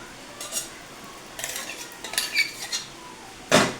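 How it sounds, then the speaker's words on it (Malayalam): A spoon mixes light-coloured jaggery into batter for neyyappam, giving a few scattered clinks and scrapes against the bowl that end in a sharp final knock, close with quiet gaps between and no talk. "ലേശം ശർക്കരയും കൂടി ഒഴിച്ചിട്ടൊന്ന് മിക്സാക്കി എടുക്കാം."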